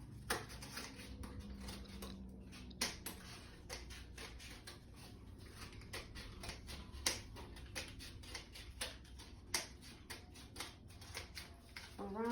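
Scissors snip around the stoma opening of an ostomy barrier wafer, giving a run of small, sharp, close clicks at an uneven pace over a low background hum.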